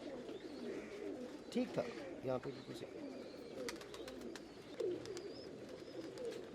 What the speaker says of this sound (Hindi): अथरे कबूतर